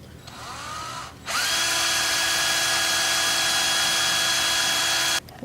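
A power drill whirs as it spins a length of coil wire to straighten it, a brief lower run, then a long steady high-pitched whine that stops abruptly near the end.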